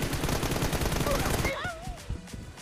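Rapid automatic gunfire in a first-person team deathmatch shooter battle, dense bursts of shots for about a second and a half, then game sounds and faint effects trailing off.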